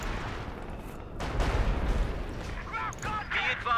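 Gunfire and artillery erupt in the World War II strategy game Company of Heroes 2: a muffled stretch gives way to a loud, dense burst of shots and blasts, with game voices calling out over the battle.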